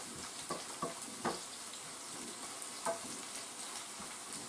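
Steady sizzling of onion frying in a pan for shakshuka, close up, with a few soft scrapes and clicks as it is stirred.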